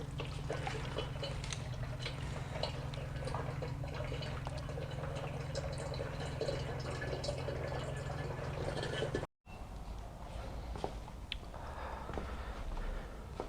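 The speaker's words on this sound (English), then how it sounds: "while those are draining, they're just dripping" Oil from a Ferrari F430 engine drips steadily into a drain pan during an oil change, a continuous trickling wash with a low steady hum beneath, briefly cut off before resuming.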